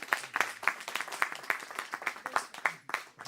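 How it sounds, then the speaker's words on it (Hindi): Scattered audience clapping at a book release event in a library, a few hands beating an uneven rhythm for about three seconds, moderately close with no talk over it. "और एक तालियां"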